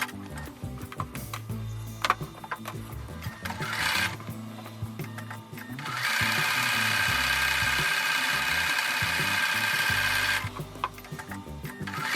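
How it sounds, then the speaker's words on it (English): A sewing machine stitching a quarter-inch seam on a quilt block, running in bursts of rapid mechanical ticking with one long continuous whirring run in the middle, close and clear with no talking. "I'm going to sew a 1/4 inch seam on both sides of the drawn line"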